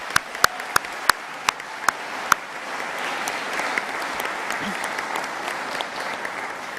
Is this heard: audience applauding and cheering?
yes